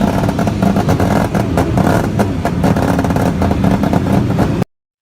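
Rotary Wankel engine running loudly with a buzzy, busy rasp and rapid firing pulses, steady throughout before stopping abruptly near the end.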